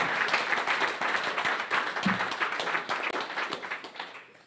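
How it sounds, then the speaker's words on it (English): Applause at a post-race press conference for a top-five finisher of the 2024 IRONMAN World Championship in Kona: steady, dense clapping from a moderate crowd, fairly close, holding evenly before thinning out at the end. "A big round of applause"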